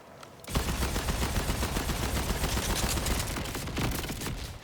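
Rapid SMG gunfire in the video game Borderlands 4, a loud continuous burst of fast shots starting abruptly after a brief quiet moment and running steadily to the end, with no talk.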